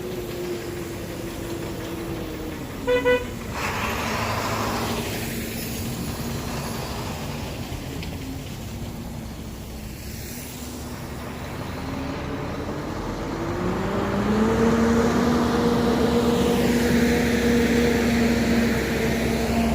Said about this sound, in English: Trucks are loud.